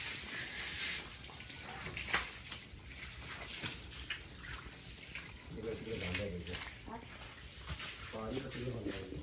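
Steady running water splashing and trickling into the base of a coconut palm, fairly close, with brief murmurs of voices in the background.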